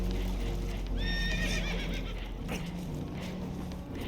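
Spooked horses whinny loudly in Red Dead Redemption 2, with one sharp neigh close by over a steady low rumble and background commotion, and hooves clopping faintly underneath.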